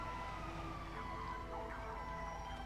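An ambulance siren from the video game Grand Theft Auto 5 wails continuously with rising and falling tones over a dense, steady background of game noise.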